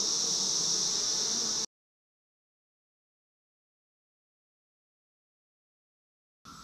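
A steady, loud cicada buzz drones for about a second and a half on a beekeeping farm, cuts to silence, then returns briefly at the end.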